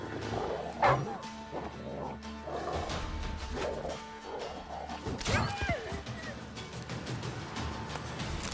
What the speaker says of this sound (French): Beaucoup de chiens là.